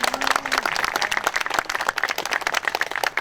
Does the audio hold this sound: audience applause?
yes